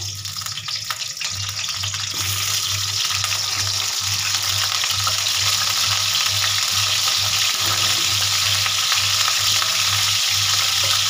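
Sliced pointed gourd fries in hot mustard oil in a heated pan, producing a loud, continuous sizzling roar that builds after the first couple of seconds and stays dense and steady, with a low hum beneath.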